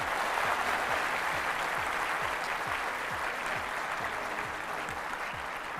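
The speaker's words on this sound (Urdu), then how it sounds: "تھوڑی سی تالیاں بجائیں تاکہ پتہ لگے" An audience at the Institute of Home Economics, Art and Design claps during a morning television talk show, a steady, even wash of applause lasting throughout, with a faint repeating low sweep underneath.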